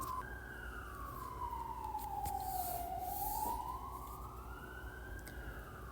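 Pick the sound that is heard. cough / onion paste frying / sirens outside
sirens outside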